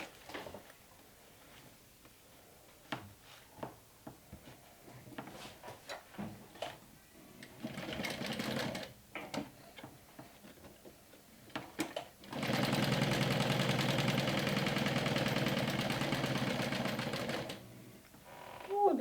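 Sewing machine stitching the side seams of a small Pheobe mini backpack, first in short bursts of rapid ticking stitches, then one long steady loud run of whirring stitching before stopping.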